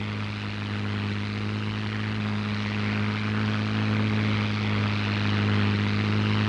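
A P-51 Mustang propeller fighter roars steadily through its takeoff run, a loud, constant engine drone with strong low harmonics holding throughout, no voices present.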